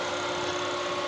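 A wood lathe spins a turned wooden pen blank during sanding, giving a constant, dense whirring hum with a steady tone throughout and no voices.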